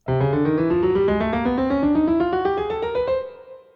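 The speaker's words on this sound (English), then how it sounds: "which is just the chromatic scale" A single pitched instrument plays a chromatic scale, climbing steadily note by note in small even steps, a continuous ascending run played cleanly and loudly, fading out at the end.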